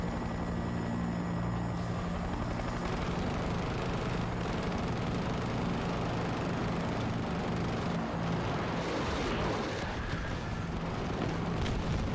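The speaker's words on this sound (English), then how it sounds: "Oh, there's a chopper right here." A helicopter flies in Battlefield 2042, its steady rotor and engine drone forming a loud, continuous wash throughout with no one speaking.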